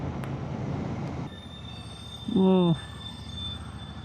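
A passing train rumbles steadily nearby, then its wheels let out a loud, brief squeal of about half a second before the rolling noise carries on.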